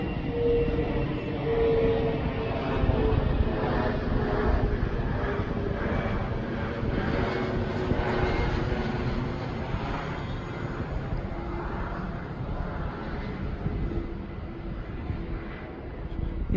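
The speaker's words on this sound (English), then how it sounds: "There's a plane. Please pardon the noise." An airplane passes overhead outdoors near a residential street, a loud, steady broadband engine roar that fills the whole stretch with slight swells and no talk over it.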